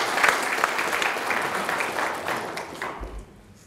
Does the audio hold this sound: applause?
yes